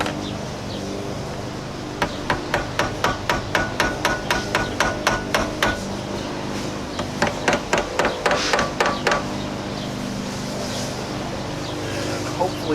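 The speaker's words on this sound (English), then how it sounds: "now I'm going to take my hammer" A hammer drives a greased hinge pin down into the door hinge of a 1999-2006 Chevy or GMC truck, with two quick runs of sharp, loud metallic blows, the first longer and the second shorter, followed by a pause.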